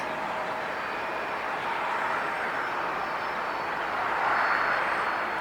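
A Qantas Boeing 767 jet airliner taxis at an airport, its steady broadband engine roar and faint whine holding level, swelling slightly near the end, with no voices.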